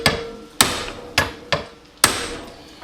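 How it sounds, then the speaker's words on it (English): A heavy hammer strikes the front fork of a Kawasaki KZ400 motorcycle during a fork rebuild, five sharp metallic blows at uneven intervals, each ringing briefly before decaying, close and loud. "Nice heavy hammer."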